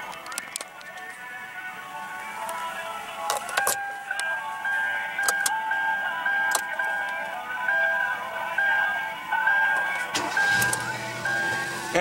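The 1.6-liter four-cylinder engine of a 2015 Kia Rio runs with a steady low hum and a faint whine. Scattered clicks and taps sit over the engine at a moderate level.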